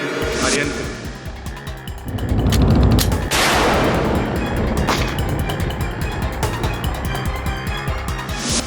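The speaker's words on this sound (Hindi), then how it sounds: "जी, ये गोली मैंने ही चलाया था आर्यन पे।" A loud gunshot cracks out amid a dense, noisy courtroom drama scene with music and voices, followed by sustained rumbling and clatter.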